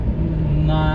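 Steady low engine hum and road rumble fill the cab of a Scania truck with an automatic gearbox as it drives along forest tracks, with a person talking over the drone.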